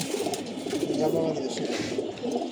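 A pigeon, a female bird, coos in a low, throaty, rolling burst close by, rising to a fuller note midway and fading toward the end.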